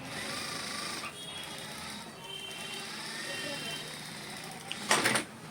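Sewing machine stitching the sleeve seam of a shirt, a steady continuous mechanical whir running throughout at moderate level, with a brief louder burst near the end; a voice talks over it.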